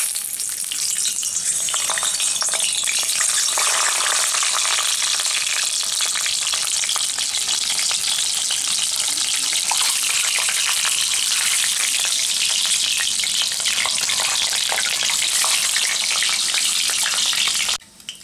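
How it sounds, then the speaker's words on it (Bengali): An egg frying in hot oil in a pan, a loud, dense, continuous crackling sizzle that holds steady for the whole stretch before cutting off abruptly at the end, with no voices. "তেল একটু গরম হয়ে গেলে আমি ডিমটা ফ্রাই করে নেব।"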